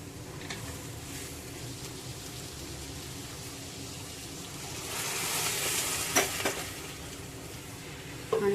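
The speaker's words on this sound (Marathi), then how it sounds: "एकाद मिनिटभर मटार मसाल्यामध्ये परतून घ्यायची" Peas sizzle and fry in spiced masala in a pan, a steady hiss with occasional stirring scrapes and clinks, close and alone without talk.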